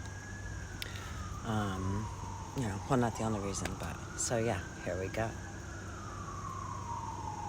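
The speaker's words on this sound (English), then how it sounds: "Hopefully these sirens aren't going to be louder than me." Emergency vehicle sirens wail outside, sweeping slowly up and down in a faint, distant tone while a person talks indoors over them.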